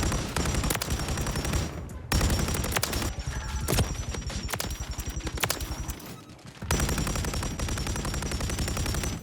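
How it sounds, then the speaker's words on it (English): Rapid bursts of automatic gunfire from Modern Warfare 3 as UAVs are shot down, loud and dense, with a brief lull partway through before the firing resumes steadily to the end. "Wait, you could just shoot the UAVs down like that?"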